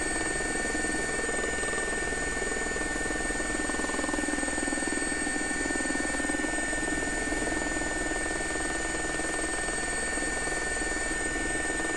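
A simulated SA342 Gazelle helicopter hovers near a helipad at a logging camp in British Columbia, its rotor and turbine a loud, unbroken drone with a steady high whine, and no one speaks.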